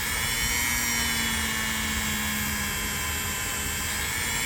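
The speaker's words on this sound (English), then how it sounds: "with the Dremel here." A Dremel rotary tool grinds rust off a Craftsman knife blade, giving a steady high-pitched whir that runs unbroken and close for the whole stretch, with no talking.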